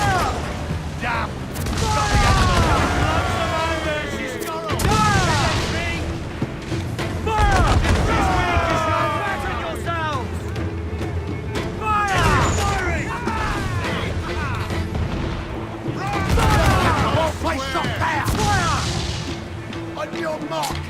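Pirate ship cannons fire in Assassin's Creed IV Black Flag, heavy booms bursting out every few seconds amid battle noise, with a voice talking and shouting over the volleys.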